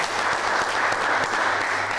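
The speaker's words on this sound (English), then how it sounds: "You can clap now." Applause at a graduation ceremony in Stellenbosch, a dense, steady burst of clapping from a crowd filling the whole moment, loud and close.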